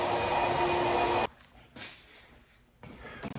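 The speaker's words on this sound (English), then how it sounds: "hit this side with compressed air. That'll usually pull all the metal shavings out." A loud, steady blast of compressed air is blown into a Kitfox aluminum wing spar to clear out metal shavings. It cuts off abruptly after about a second, followed by a few quieter puffs and then a short final burst.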